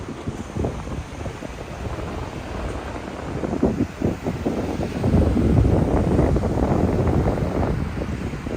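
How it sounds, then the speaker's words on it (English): Strong wind buffets the microphone in rough gusts on a street walk between Tachikawa and Hachioji, Tokyo, growing louder and more constant toward the end, with no voices. "Getting a bit windy."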